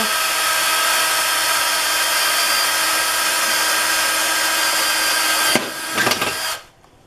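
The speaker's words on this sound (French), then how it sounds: "Toujours le même principe. On perce." Power drill boring a hole for a rivet, a loud, steady high whine held for about five seconds, then a couple of brief rougher bursts as the bit breaks through before it winds down to quiet.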